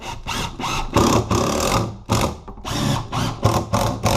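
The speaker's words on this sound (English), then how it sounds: "Now we'll just go ahead and screw this into our framing." Power drill driving screws through a drywall patch into wall framing, close and loud, with the motor whirring in several bursts and brief pauses between them.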